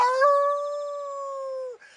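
A human voice imitates an old hound dog howling, giving one long, loud, sustained wail that holds steady, then drops away at the end.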